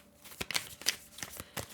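Animal Apothecary oracle cards shuffled by hand, a close run of crisp riffling bursts and soft card slaps in a quick, uneven rhythm, with no talking.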